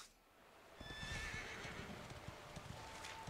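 A horse in the video game Dragon Quest XI lets out a loud whinny over steady clip-clopping hooves, which keep up a continuous trotting rhythm after the neigh.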